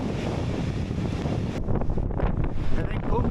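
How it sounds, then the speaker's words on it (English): Strong wind buffets the microphone outdoors on a fjord coast in east Iceland, a loud continuous low rumble that briefly eases and then gusts again, with faint hints of a voice beneath. "I don't know if you can hear the wind"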